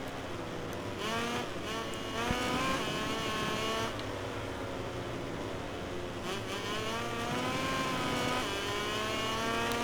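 A KTM racing motorcycle engine in the video game MotoGP 18 screams steadily at high revs, with pitch rising and dipping through gear changes and corners, loud and continuous throughout.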